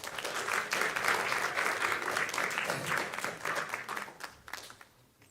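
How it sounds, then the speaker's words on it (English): A school graduation crowd applauds to welcome a graduating student, a loud, steady wash of clapping that holds for several seconds and then thins out and fades at the end. "Welcome him with a round of applause."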